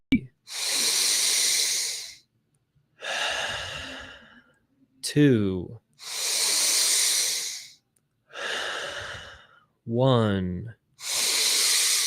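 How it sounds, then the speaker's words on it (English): Slow, deep breathing exercise breaths: long airy inhales and exhales, each lasting over a second, with brief pauses between them. Close and loud, they come alongside a short spoken count and a couple of voiced sighs. "take a deep breath all the way in and let it go"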